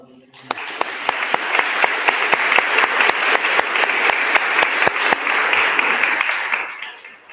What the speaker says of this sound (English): Let's get a round of applause for all of them.